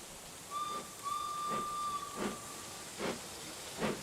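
A leaking steam locomotive hisses in a series of soft steam bursts roughly every three-quarters of a second, while a thin steady whistle-like tone runs through the first half, heard alone at moderate distance.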